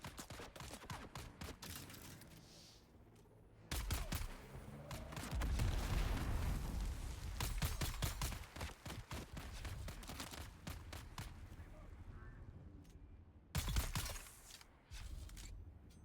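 Video-game gunfire breaks out in rapid, crackling bursts, with dense volleys of shots and a few quieter gaps between them. The firing is fairly faint in the mix, and no voices are heard.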